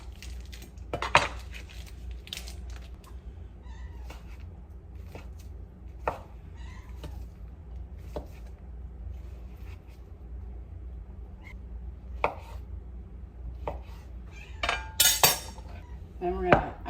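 A knife slices through hickory smoked garlic ring bologna, its wrapper coming away, with a few sharp clicks and knocks against a board spread through a steady low background hum.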